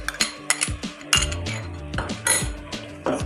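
A metal spoon stirs and scrapes achari keema in a karahi pan, with loud, close clinks and scraping strokes repeating in an irregular rhythm.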